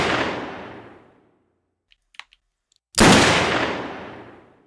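Layered gunshot sound effect built from a sharp snap, a punchy body and a long decaying tail, played twice: one loud blast fading over about a second, a short gap with faint clicks, then a second heavy shot ringing out.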